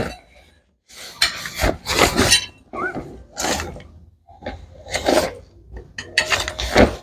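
Metal rods of a playpen bed pushed and slid into their inner sockets, giving several bursts of scraping and rubbing against the frame over a few seconds, close and fairly loud with brief pauses between.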